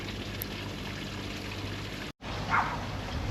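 Water flowing steadily through the cooling system of a 2004 Subaru Impreza during a coolant and heater core flush, a continuous close trickling pour with a brief dropout partway through.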